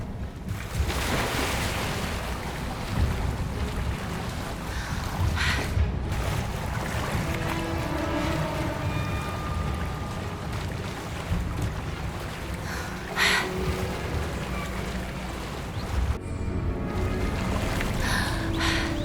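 Bubbling, churning water in the video game Hogwarts Legacy, heard as a steady, fairly loud wash of noise throughout, with a few brief swells and dips and no talking.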